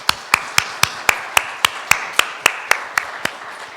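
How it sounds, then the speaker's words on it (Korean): A church congregation at a Korean Sunday worship service claps in unison, a crisp, loud, steady beat of about fourteen sharp claps spaced evenly with no voices over them. "같이 박수로 축하를 한번 하겠습니다."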